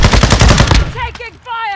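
Rapid automatic gunfire bursts loudly in Call of Duty: Modern Warfare II Warzone, a fast rattling string of shots lasting under a second, followed by a brief electronic game tone.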